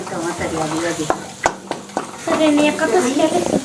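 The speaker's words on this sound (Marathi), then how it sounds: "कांदा त्याने व्यवस्थित मिरची वगैरे व्यवस्थित तळून घ्यायची" Onion and chili fry in a pan over low gas while being stirred: a steady sizzle with a few sharp spoon clicks against the pan, and a voice talking over it.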